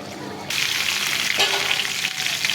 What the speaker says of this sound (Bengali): এই যে ডিমের কোরমা করবার জন্য ডিম ভাজে নিতেছি।